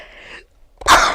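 One sharp, loud sneeze bursts out near the end after a brief snatch of quiet speech and a moment of silence.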